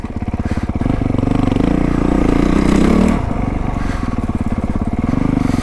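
A Honda CRF450R dirt bike engine on a snowy trail, loud and close, its exhaust pulsing in a steady throbbing rhythm as the rider holds and rolls the throttle, with a brief rise in revs midway.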